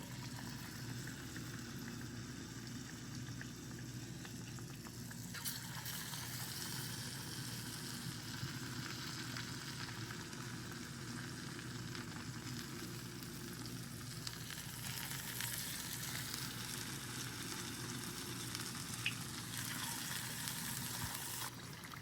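Batter-coated potato fritters frying in hot oil, a steady dense sizzle and crackle held close and constant for a long stretch, with no voices over it.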